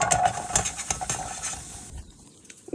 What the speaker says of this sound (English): Cooking up breakfast now, just having some potatoes and eggs.